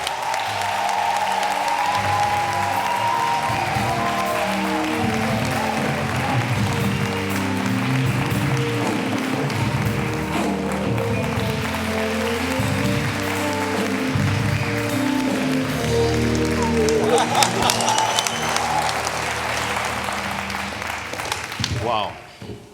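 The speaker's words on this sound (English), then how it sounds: "Let's welcome a round of applause for Suzie Nyamo." A studio audience on a TV talk show applauds steadily to welcome a guest, a long sustained round of clapping with music and voices running underneath that tapers off at the end.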